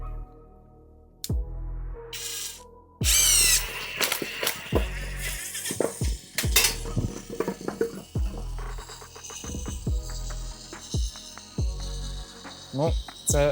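A Pro-Craft PWA36 cordless impact wrench with a sticking trigger, driven under light load after being soaked with water and sand, rattles out loud bursts of rapid hammering impacts, stopping and restarting repeatedly, close to the mic.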